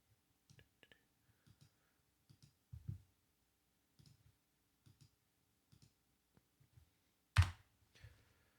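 Keys on a Mac computer keyboard tapped out one at a time, a sparse run of light, close clicks with short pauses between them and one sharper, louder strike near the end, otherwise quiet.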